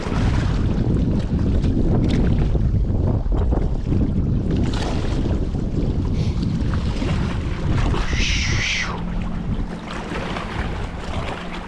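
Wind gusting across open water around a fishing boat, a heavy continuous rush and buffeting close to the microphone, easing a little toward the end.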